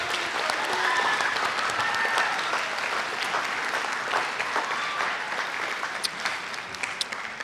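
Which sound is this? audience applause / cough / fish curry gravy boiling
audience applause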